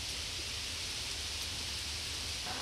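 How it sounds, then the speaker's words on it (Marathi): Steady broadband hiss of rain falling over Mumbai on a cloudy morning, a continuous even wash with no distinct drops, constant in level throughout and no voices. "आज सकाळपासूनच मुंबई आणि परिसरात पावसाला सुरुवात झाली आहे"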